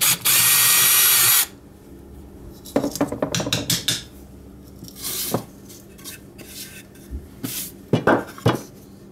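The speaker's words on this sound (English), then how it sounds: "let's make this hole on our piece of oak a little bit larger" Power drill enlarging a hole in a piece of oak, one loud burst of whining drilling at the start, followed by clattering knocks and handling of tools and wood.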